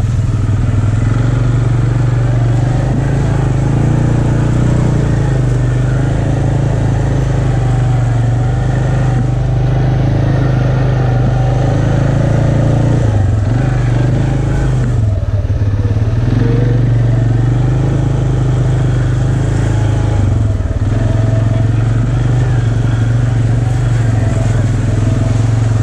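An off-road vehicle grinds along a muddy trail in four-wheel drive at an off-road resort, its engine droning steadily and loud throughout with a dip and surge mid-way, with a few voices talking over it.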